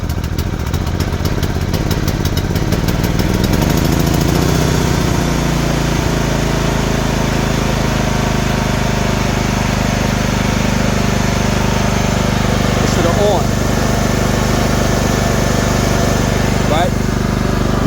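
An Efurden 4000-watt inverter generator runs steadily after a pull start, a loud, close, continuous engine drone with a shift in pitch early on as it settles, while a person talks over it.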